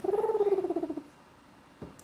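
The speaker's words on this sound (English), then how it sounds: "that kind of raspy sound you're hearing is kind of like a purr" A raspy, pulsing purr-like rumble from a goose lasts about a second, close and fairly loud, then fades to quiet with a faint thump near the end.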